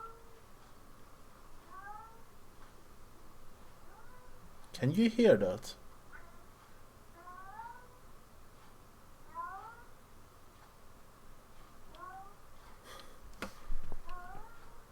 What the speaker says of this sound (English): Kanye is meowing like crazy